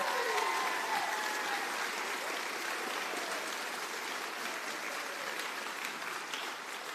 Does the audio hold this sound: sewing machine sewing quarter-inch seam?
no